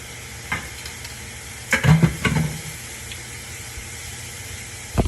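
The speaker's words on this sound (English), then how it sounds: "And then we'll just toss that in the pan." Hot linguini hits a pan of tomato sausage sauce with a brief sizzling, clattering toss in the middle, framed by soft kitchen knocks and a sharp bump at the end.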